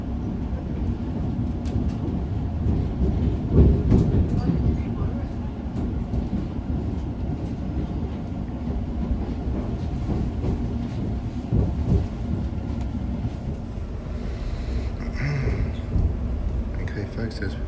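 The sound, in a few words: London Overground train pulling into Liverpool Street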